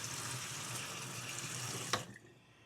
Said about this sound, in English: to wash the stone off.